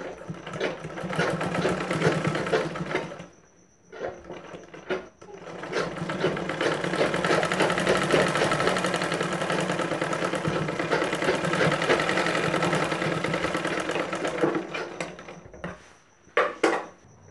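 An electric sewing machine stitches the side seam of a blouse in long, steady whirring runs. Brief pauses and light clicks break up the stitching.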